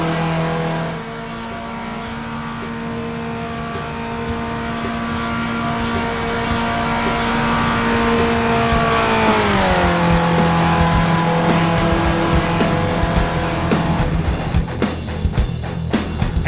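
A Ford SpecRacer race car at Daytona Road Course in iRacing drones loudly and steadily at high revs, the engine note dropping as it shifts or slows partway through, with tire noise and faint clicks near the end.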